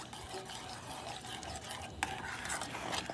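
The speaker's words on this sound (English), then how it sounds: "I'm going to stir that in." A spoon stirs roux into the sauce of braised short ribs in a pot, soft continuous scraping and swishing with a faint simmer and one light clink, fairly quiet and close, no voice.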